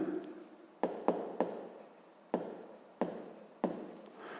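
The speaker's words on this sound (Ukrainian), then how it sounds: "Пишемо ділення." A pen writes a long division on paper close up, a soft scratching broken by sharp taps and quick strokes roughly every half second, with no talking.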